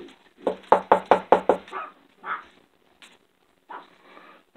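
Knocking on a door in a home during a prank: a quick run of about six sharp, loud raps in even rhythm, followed by a few scattered softer knocks and faint sounds, with no talking.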